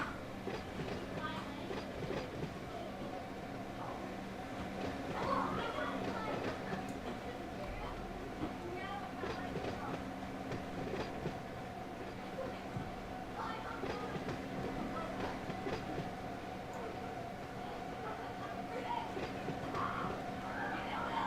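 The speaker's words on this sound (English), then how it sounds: "train brakes have been applied" A freight train in the Run 8 railroad simulator slows under applied brakes, a low steady rumble with rhythmic wheel clatter and faint squeals, with someone talking at times over it.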